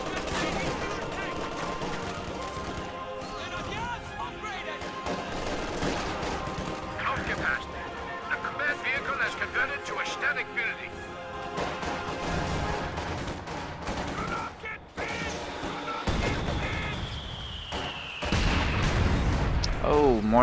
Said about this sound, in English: mortars continuing to land here in the center